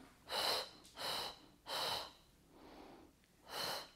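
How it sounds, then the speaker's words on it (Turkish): Steady, deliberate breaths during a pregnancy side-stretch exercise, five close-up inhales and exhales in a slow rhythm, the fourth softer than the rest, with no talking. "Ortada nefes aldım."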